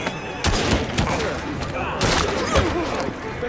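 Gunfire volleys from the video game Assassin's Creed Syndicate, loud broadband bursts near 0.5 and 2.0 seconds, with clustered shots and game noise filling the gaps.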